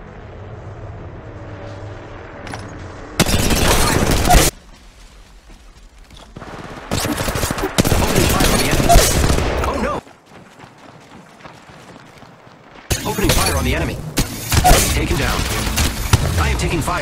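Loud gunfire in the mobile shooter Apex Legends Mobile comes in several sustained volleys of rapid shots, with quieter stretches of ambient game noise between the bursts.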